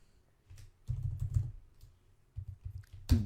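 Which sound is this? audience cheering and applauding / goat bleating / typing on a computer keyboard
typing on a computer keyboard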